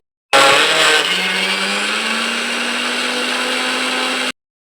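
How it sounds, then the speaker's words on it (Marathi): A kitchen mixer grinder grinds peanuts into peanut butter, a loud continuous motor whine whose pitch climbs slightly and then holds steady before it stops abruptly. "थोडे लाडू बांधून उरलेले जे होत ते मिक्सरला मी घालून बारीक करत आहे"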